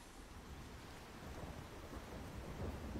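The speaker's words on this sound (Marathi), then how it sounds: "सातारा जिल्ह्याच्या पश्चिम भागामध्ये जो पाऊस कोसळतोय" Heavy monsoon rain pours down in western Satara district as a dense, loud, unbroken roar of rain with deep rumbling underneath, and no voices.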